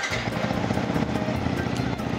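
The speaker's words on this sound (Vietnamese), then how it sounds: "Bây giờ mình sẽ nổ máy." A motorcycle fitted with a Hyperion anti-theft alarm starts and settles into a steady, close idle, its engine note running continuously and fairly loud with no talk over it.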